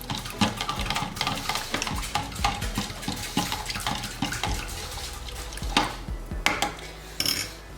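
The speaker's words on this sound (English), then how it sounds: "we'll just give that a wee stir" A spoon stirring a wet mixture in a bowl, steady close scraping and clinking with watery swishing, continuous for several seconds.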